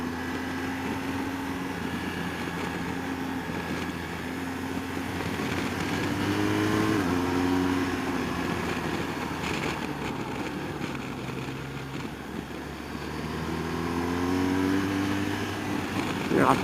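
A 2016 BMW R1200GS motorcycle engine drones steadily while riding, its pitch sweeping upward in rising bursts as it accelerates, with wind noise throughout.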